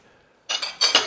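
A French onion soup bowl is set down on a plate in a home kitchen: after a near-silent moment, a few quick ceramic clinks and knocks sound close and bright.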